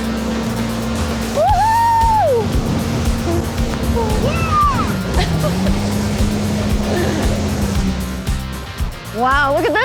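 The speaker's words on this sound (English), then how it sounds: "Jet skis are a hybrid between a water ski, powerboat, and a motorcycle" A jet ski engine drones steadily with rising and falling whines, over splashing and the rush of wind and waves.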